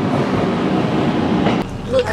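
A train pulls into a station in Japan, a loud steady rumble of rail cars that drops off near the end, with voices faintly present.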